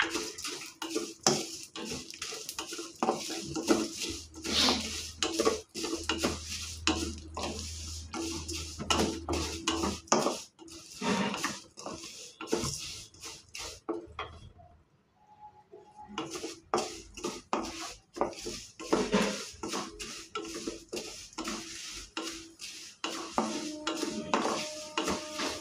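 Vermicelli frying in a pan until light golden for semiya payasam, with continuous scraping and clinking of a spoon stirring against the metal, close and busy with a brief lull midway, no talking.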